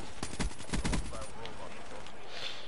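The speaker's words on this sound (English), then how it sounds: "You people keep shooting, man." Gunfire in Black Ops 3 on the Verge map during Safeguard mode: rapid bursts of automatic shots with a robot escort nearby, mixed with game effects and distant action.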